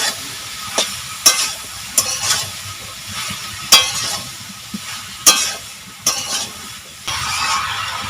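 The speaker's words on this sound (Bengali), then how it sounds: "এখন আমি মশলার সঙ্গে চাল কুমড়োটা ভালো করে মিশিয়ে নেব" Chopped ash gourd stirred into fried spices in a pan for a prawn ash gourd dish: sizzling frying with sharp, irregular scraping strokes of the spoon against the pan, and the sizzle swelling louder toward the end.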